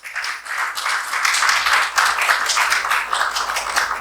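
A seminar audience on a new diet system claps steadily for several seconds, a dense and continuous patter of many hands with no voices over it.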